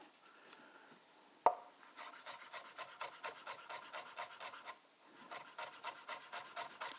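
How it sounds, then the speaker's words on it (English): Knife chopping shallots on a board, a rapid, steady run of crisp close cuts after a single sharp knock, pausing briefly before resuming at the same quick rhythm. "So chop your shallots like that, or your red onions."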